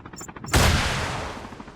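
A sudden loud gunshot blast from a shooting video game cracks out after a half-second of quieter game ambience, then rolls into a long, dense decaying roar that fills the rest of the moment.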